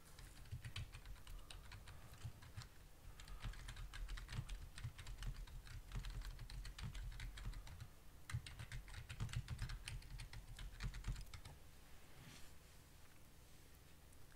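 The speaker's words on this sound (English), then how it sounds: "and then type in your password." A password being entered on a computer keyboard, with rapid, close, crisp key clicks in uneven bursts and a short pause near the end.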